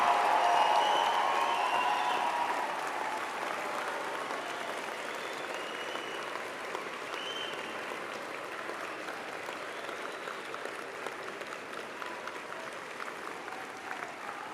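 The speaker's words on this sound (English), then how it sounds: "I ask your friends and family to join me in applauding the amazing graduating class of October" Large university convocation audience applauding the graduating class, a broad sustained wash of clapping that starts loudest and settles into a steady, slightly softer roar with no talk.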